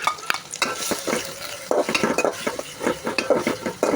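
Small shrimp and bottle gourd being stirred in a frying pan, with repeated close, clattering spatula scrapes and knocks against the pan over a light sizzle.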